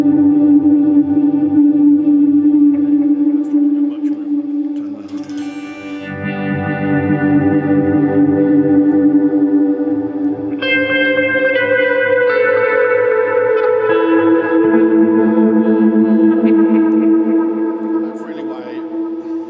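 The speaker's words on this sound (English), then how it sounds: "To use the tape delay in this TC Electronics Flashback II, because it has some real movement in it." Electric guitar played through a phaser and a TC Electronic Flashback II tape delay on an ambient pedalboard, giving long, swirling sustained notes with repeating echoes that drift and overlap for a sustained stretch, loud and close.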